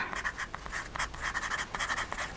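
Esterbrook Estie fountain pen with a medium nib writes on paper, a soft, close scratching in quick irregular strokes with short pauses between them.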